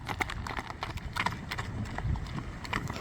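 Hooves of a horse clip-clop in a quick, uneven run of close, sharp knocks on hard ground, continuous throughout and fairly quiet, with no talking.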